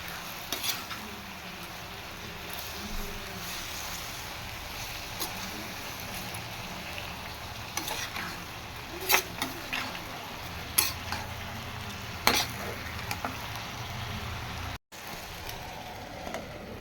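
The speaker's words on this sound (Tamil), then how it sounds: "வெங்காயம் தக்காளி நல்லா சூப்பராக வதங்கி வரட்டும்." Onions and tomatoes with rock salt sautéing in a pan for egg curry, a continuous soft sizzle with scraping stir strokes and occasional spoon clinks against the metal, close by.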